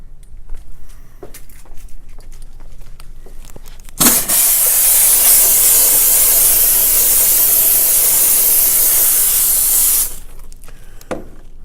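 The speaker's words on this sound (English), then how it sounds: "We'll steam the glass to see if we can see the sticker outline." A steam cleaner steaming glass to lift suction cup and label marks lets out a loud, steady hiss for about six seconds, bracketed by quieter handling noises before and after.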